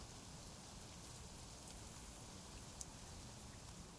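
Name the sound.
rain falling in a survival video game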